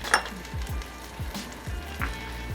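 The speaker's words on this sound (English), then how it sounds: "You're actually frying the rice to start," Rice fries in a pan with a faint steady sizzle, while a utensil stirs and scrapes in a slow, regular rhythm of soft strokes, close and quiet.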